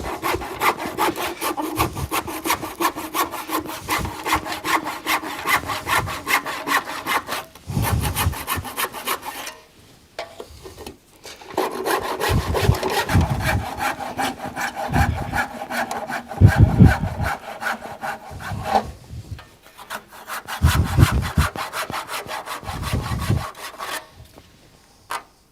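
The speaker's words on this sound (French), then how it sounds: "pour finir l'angle, évidemment, un petit coup de scie égoïne" Hand saw cutting through a wooden decking board to square off a corner on a terrace built over a steel frame, steady back-and-forth rasping strokes in several bursts separated by brief pauses, close and clear with no talk.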